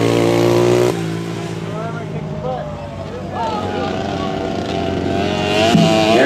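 Engines of racing motorcycles on a flat track roar through the final lap, a loud sustained drone with shifting whines from passing bikes, heard beneath an announcer talking continuously.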